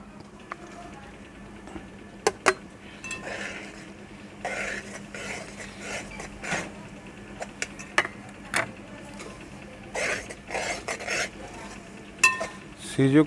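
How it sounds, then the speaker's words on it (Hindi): Semolina is stirred and roasted in ghee in a pan over a low flame, with repeated scraping and stirring strokes, a soft sizzle beneath them, and occasional clinks of a utensil against the pan. "इधर हमने घी पहले डाल के रखा हुआ है ऊपर, और इसमें सूजी ऐड करते हैं।"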